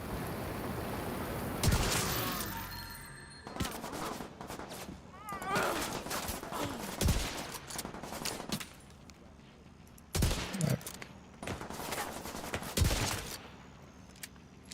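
Gunfire in the video game The Division, bursts of rapid automatic shots separated by pauses, sharp and close, with some shorter single reports and low background game noise between volleys.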